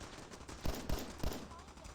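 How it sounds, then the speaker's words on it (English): Gunfire in the video game Fallout 4, three heavy shots about a third of a second apart over a busy combat background, with a voice faintly present. "Everyone's shooting."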